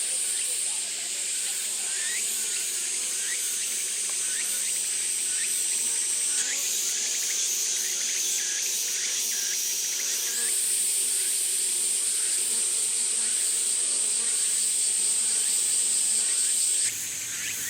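Honeybees drone steadily on frames pulled from a hive at a farm in Ōmishima, Japan. The dense, high, continuous buzz carries throughout with no one talking.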